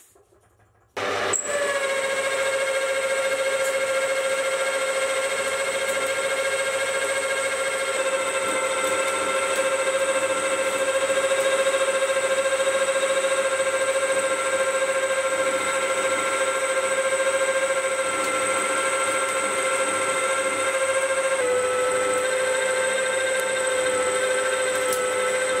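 A milling machine starts abruptly and makes a first cutting pass, giving a loud, steady high whine with a harmonic hum that holds for over twenty seconds, with a slight pitch shift near the end.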